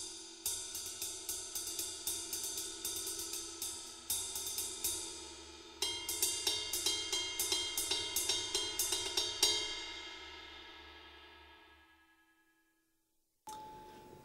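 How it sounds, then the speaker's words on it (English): A ride cymbal struck between bell and edge repeatedly in a steady rhythm, bright pinging strokes over a shimmering wash that rings out and fades, followed by one last lone hit. "Finally, we have the ride cymbal."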